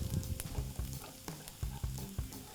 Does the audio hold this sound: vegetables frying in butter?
yes